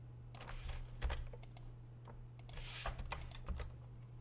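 Computer mouse clicking while adjusting a sketch in CAD software, a series of small, crisp, closely spaced clicks at irregular intervals over a steady low electrical hum, fairly quiet and close.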